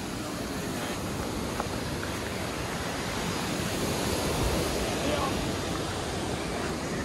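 River water pours over a dam in a steady, loud, broadband rush that holds without a break for several seconds.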